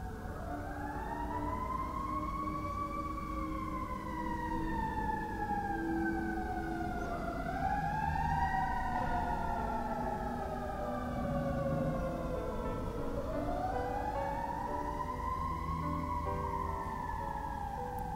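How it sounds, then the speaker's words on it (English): An ambulance siren wails, sweeping up and down in long, repeated cycles, loud and sustained as the ambulance passes nearby, with road rumble underneath. "Can hear the ambulance every now when it comes by."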